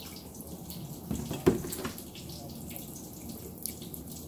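Lemonade pours and splashes into a container for a few seconds, with a brief louder gush near the start over a faint background hiss.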